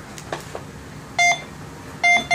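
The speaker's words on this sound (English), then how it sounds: "it's still ringing up as a good target" A Go Find 60 metal detector sounds on a buried target during an air test: two short bursts of bright, clear electronic beeps, each a quick doubled tone, over faint background rustling.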